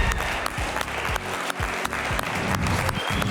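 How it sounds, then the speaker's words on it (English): A studio audience at a televised quiz show claps in a sustained round of applause, loud and even throughout, with a few low thumps underneath. "Another round of applause for Sochima."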